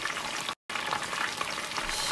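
Chicken wings fry in hot grease with a steady, close hiss and crackle, broken by one brief silent gap, no talking.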